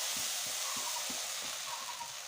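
Rice flour being added to a hot wok while making khola sapori pitha rice cakes, giving a steady, close hiss with faint sizzle and soft scraping taps, no voices.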